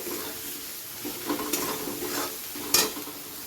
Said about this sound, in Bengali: তো এবারে সবগুলোকে ভালো করে একসাথে একটু কষিয়ে নিতে হবে।